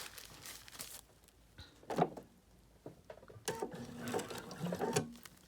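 Sewing machine stitching plush minky microfiber fabric in short bursts of rapid mechanical whirring, separated by quiet pauses and small clicks, close and moderately loud with no voices.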